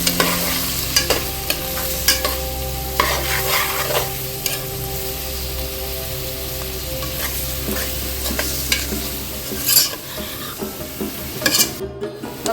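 Whole spices and masala roast in a pan with a steady soft sizzle while a spoon scrapes and stirs them at intervals, close and moderately quiet with no talking.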